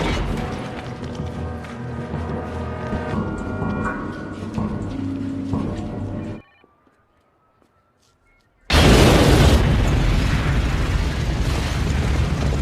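An explosion in a crime action movie erupts after dramatic music cuts to a brief silence: a sudden loud, broadband blast hits near, then roars on as a sustained rumble to the end.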